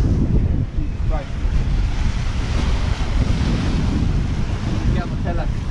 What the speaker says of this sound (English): Wow, never seen waves that big in my life.